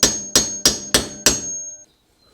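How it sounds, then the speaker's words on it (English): Five sharp metallic hammer blows at an even pace on a KTM 250 SX swingarm bearing being knocked loose, close and loud, each strike ringing briefly before fading, then quiet. "I'll just hit it for a few times to see if it comes loose."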